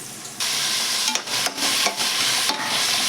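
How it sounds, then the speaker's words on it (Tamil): Onions sautéing in oil with ghee in a pan for a veg biryani, a loud, steady sizzle that starts abruptly, broken by a few brief stirring dips, close and without talk. "எண்ணெயில் கொஞ்சம் நெய்யை ஊற்றி நல்லா வெங்காயத்தை வதக்கினதுக்கப்புறம்"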